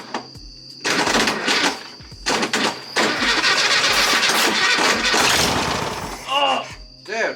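A barn-find 1974 VW Beetle with a large exhaust leak cranks over and fires up, its rough, loud engine clattering close by in bursts, with excited voices over it.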